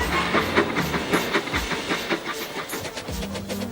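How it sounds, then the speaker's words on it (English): Breakdown train hurrying along rails in an animated children's tank engine show; loud rhythmic clickety-clack of wheels over rail joints with hissing steam, close and continuous. "The breakdown train! Quickly!"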